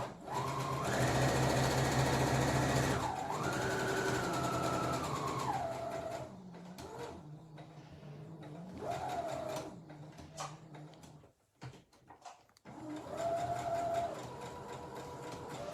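A sewing machine stitching fabric for an Easter bunny bag runs in loud, whirring bursts with rapid needle chatter, pausing and restarting several times, with a short reverse-and-forward securing run near the end.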